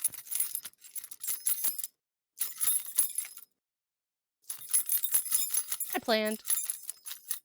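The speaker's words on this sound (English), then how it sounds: "Are y'all enjoying the key jingle?" A bunch of keys jingles nearby in three bursts of bright metallic jangling separated by short silences, and a voice speaks briefly near the end.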